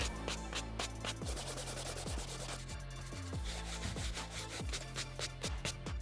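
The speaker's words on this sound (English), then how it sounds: "I'm gonna dry brush the shoe all around on the green canvas, on the white mesh, inside of the sneaker" A soft-bristle brush is dry-scrubbed over a sneaker's green canvas and white mesh in quick, steady back-and-forth strokes, a close rhythmic rasping with no talking.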